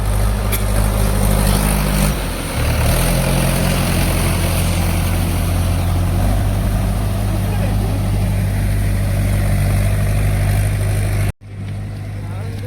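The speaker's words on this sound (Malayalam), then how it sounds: "കാടിൻ്റെ ഉള്ളിൽ വരുന്ന ട്രാക്ടർ അല്ലേ? അല്ല, ഇതൊരു പാടമാണ്." A tractor plows a paddy field left uncultivated for a year, its engine a loud, steady low drone close by that runs almost unbroken before a brief cut near the end.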